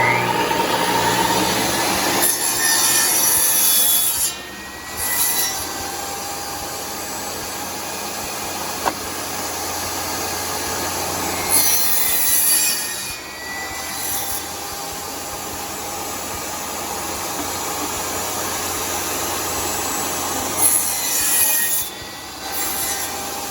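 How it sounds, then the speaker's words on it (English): A handsaw cuts wooden tenons for plantation shutters with long, even rasping strokes. The sawing is close and loud and comes in three extended runs separated by brief pauses. "so when you cut your tenons"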